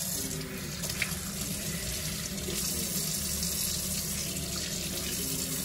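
Steady running tap water pouring into a sink while chicken gizzards are washed, a continuous close splashing hiss with no talk.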